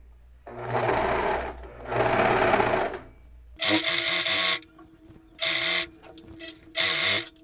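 A sewing machine stitches the waist seam of a knit dress in short bursts. Each loud, fast mechanical rattle lasts about a second, with pauses between the runs.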